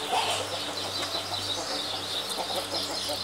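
Young Giant Indian chickens cluck softly amid a busy, noisy backdrop with a steady hum and scattered chirps, with no voices clearly standing out.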